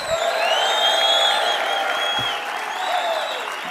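Crowd applause with cheering and whooping at an East Coast Surfing Hall of Fame induction ceremony, a steady dense roar of clapping with high whoops rising above it throughout.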